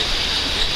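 Heavy rain pours down on umbrellas in Las Vegas, a dense, steady hiss of drops close by with no pauses.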